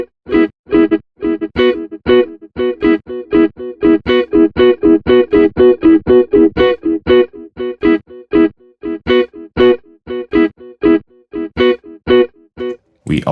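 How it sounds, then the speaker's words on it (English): A guitar run through an Echoplex delay modeled on the EP3 solid-state tape echo, with rapid, evenly spaced repeating plucked notes trailing into warm, slightly distorted echoes, loud and close, with no speech. "We have the Echoplex, which is based off of course, the EP3 solid-state tape echo."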